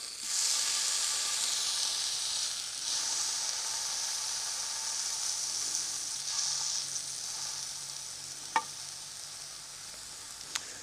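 Smoked sausage, slit down the middle, sizzles steadily in a cast iron pan, a close, continuous frying hiss with a couple of brief sharp pops near the end.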